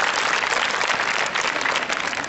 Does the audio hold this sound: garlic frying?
no